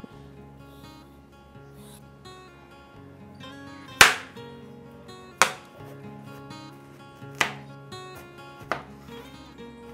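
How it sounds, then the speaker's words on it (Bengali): Peeled bottle gourd is chopped into thick pieces on a board, giving four sharp knife strikes spaced about a second or more apart over quiet background music. "খোসা ছাড়িয়ে একটু মোটা মোটা টুকরো করে কেটে নেব।"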